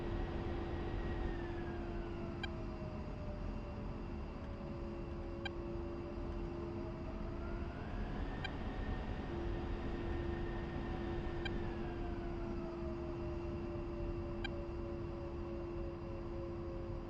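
An A-10C jet taxiing to the runway in the DCS flight simulator gives a steady, loud engine drone with a high whine and slowly rising and falling tones, unbroken for the whole stretch.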